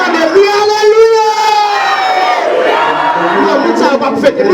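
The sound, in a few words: church congregation shouting Alleluia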